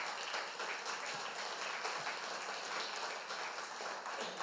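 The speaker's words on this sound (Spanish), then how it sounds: "Démosle otro aplauso fuerte al Señor." A church congregation applauds loudly for the Lord, a steady, dense roar of many hands clapping that holds evenly from start to finish, sounding somewhat distant and muffled.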